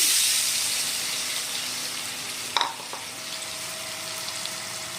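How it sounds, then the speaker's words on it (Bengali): Potatoes fry in hot oil with a steady, broad hiss that fades slightly, broken by a brief louder crackle and splash partway through as they settle in the pan. "তেল গরম হয়ে গেছে, আর এখন আলুগুলো দিয়ে নেব"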